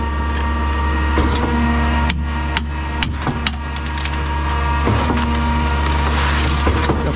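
Putzmeister or Schwing concrete pump running in reverse to empty its hopper, a steady mechanical hum with repeated sharp knocks and clanks of concrete and valve strokes.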